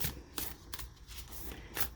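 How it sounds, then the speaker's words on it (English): Oracle cards riffle shuffled and bridged, a soft papery flutter of cascading cards with a few crisp bursts, close and quiet, no voices. "people call it riffle shuffling or rifle shuffling, that bridge looking one"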